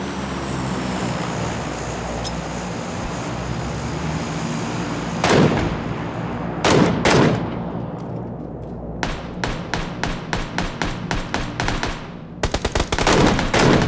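An M249 light machine gun fires in PUBG Battlegrounds: after a quiet stretch with low background noise come separate loud bursts, then a fast run of rapid, evenly spaced shots, then a final dense burst.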